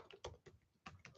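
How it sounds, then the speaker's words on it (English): Close, crisp keystrokes on a computer keyboard, tapping out in two short bursts separated by a pause, with no voices. "I'm going to type this in"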